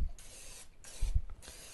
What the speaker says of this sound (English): So I just take the pan and just spray it liberally all throughout my pan.